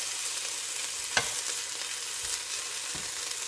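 Stir-fry sizzling steadily in a pan, with a few sharp scraping knocks as the food is smashed against the sides; close and continuous, no talking.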